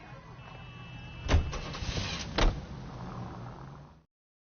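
A car in L.A. Noire starting and pulling away, a low engine hum with two sharp thumps like a door or ignition, fading out near the end.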